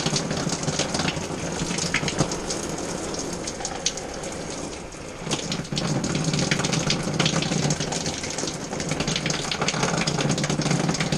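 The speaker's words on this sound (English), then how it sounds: "too much water coming out of there" Water pouring hard from a temporary bathroom shower in a low-cost house, a dense steady splashing hiss that runs the whole time with no talk and a brief dip near the middle.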